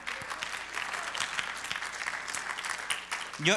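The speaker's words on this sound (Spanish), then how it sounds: "Denle un aplauso al Señor" A congregation at a Spanish-language church service applauds in a dense, steady wash of clapping that carries on for several seconds, with a voice breaking in near the end.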